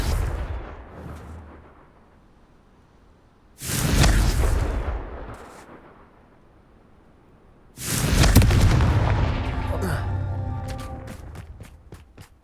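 Two booming explosions from the Confringo spell in the game Hogwarts Legacy, each a loud roaring blast that rolls out over a few seconds, the second followed by crackling debris and rapid small pops.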